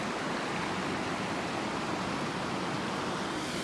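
Clear water of the Dolo river flowing steadily, a continuous broadband rush heard close and alone with no voices.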